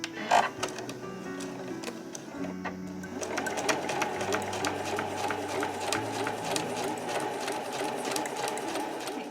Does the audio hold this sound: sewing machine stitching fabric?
yes